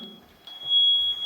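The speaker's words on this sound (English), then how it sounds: "So now we've got an alarm going off for God knows what reason." A steady high-pitched electronic alarm tone sounds inside an old historic mansion, holding one continuous piercing note throughout at moderate loudness, with faint rustling and room noise beneath.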